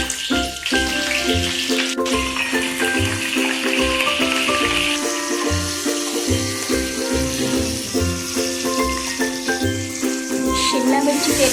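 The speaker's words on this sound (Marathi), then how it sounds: "जिरे मोहरीचा तडका झाल्यानंतर ढोबळी मिरची टाकून घ्यायची." Green capsicum tipped into hot oil in a kadhai over a cumin and mustard seed tempering, giving a steady, continuous sizzle that runs throughout beneath a bed of background music.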